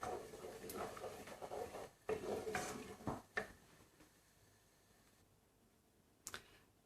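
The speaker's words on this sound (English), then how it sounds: "Give it a bit of a stir around." Passata tomato sauce for a red bean curry is stirred in a pot on the heat, soft scraping and a few sharp clicks of a utensil against the pot over a low bubbling sizzle, quieter toward the end.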